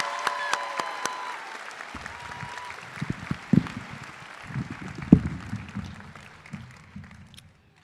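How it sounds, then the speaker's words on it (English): Audience at a high school graduation ceremony applauding, a broad wash of clapping from a crowd in a large hall, fading out gradually toward the end with a few louder claps standing out. "Let's give one more round of applause to Tony and Umberto"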